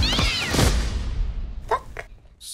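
A cat in a film trailer gives a brief, close meow at the start, followed by a few short swishing effects.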